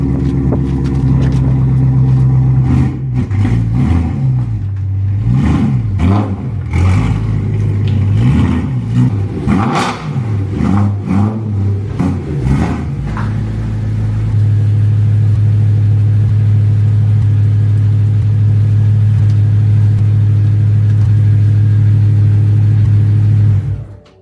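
A BMW E92 M3 engine cranks and fires, then revs repeatedly in loud, rising and falling surges before settling into a steady, droning idle, close and continuous.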